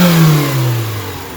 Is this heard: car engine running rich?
yes